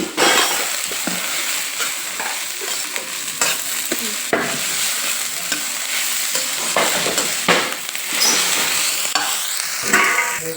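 Cut tomatoes and ivy gourd sizzle in a hot pan, with bright frying hiss broken by the scrape and clink of a spoon stirring, close up and without talk.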